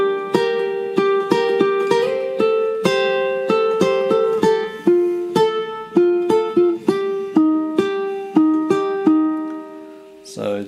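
Plucked ukulele strings pick out the notes of the chords from a song's intro one at a time, in a steady, even rhythm, each note ringing clearly and decaying before the next, heard close and alone.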